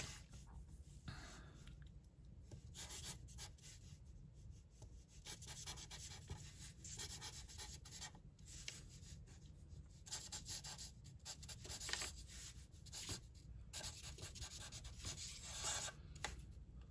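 Pen scratching across a paper page in an art journal with glue pages, a continuous soft scritching with irregular strokes and brief pauses, faint and close throughout.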